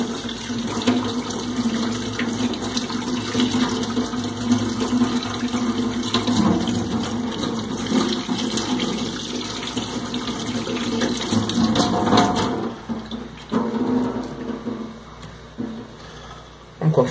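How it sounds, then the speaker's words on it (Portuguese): Steady running tap water rinses blood from a dissected aquarium fish during a necropsy, a continuous close splashing flow that shifts slightly as the fish is moved under it, then cuts off at the end. "vou passar uma água para limpar esse sangue aqui que saiu quando eu cortei a veia"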